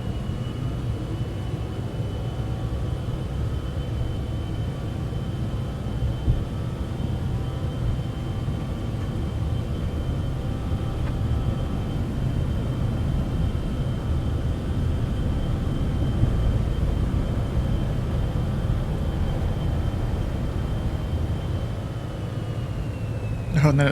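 Beechcraft Bonanza piston engine at takeoff power, a steady loud droning roar with a sustained tonal hum, continuous for the whole stretch under occasional cockpit talk.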